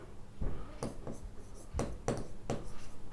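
A pen writing a furniture account entry, short scratchy strokes in a few quick bursts, close and moderately loud, with no talking.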